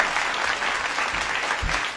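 A crowd clapping steadily and fairly loudly, a dense wash of hand claps with no pauses, heard up close.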